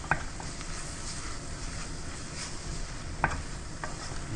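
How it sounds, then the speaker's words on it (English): Flour being stirred into melted butter in a pan to make a roux: a soft, steady sizzle with occasional light utensil taps against the pan, close by and quiet. "You want to get all that flour coated with the butter."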